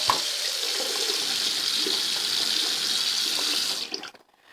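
Cold water gushes steadily from a tap into a sink, a constant bright splashing stream close to the microphone that runs for several seconds before being shut off abruptly near the end.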